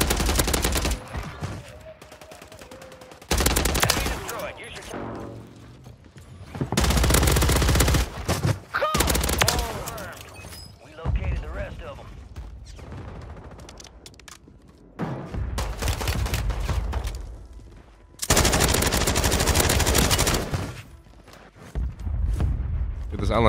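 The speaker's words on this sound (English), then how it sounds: "This LMG is crazy." Light machine gun in Call of Duty Warzone on Rebirth Island firing in several long, loud sustained bursts separated by short pauses, with players talking between the volleys.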